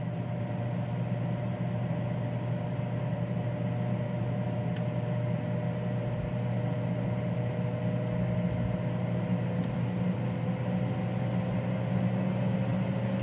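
A Gourmia air fryer's fan runs on high, a steady, loud whir with a low hum and a faint mid-pitched tone, running continuously without pause and no voices.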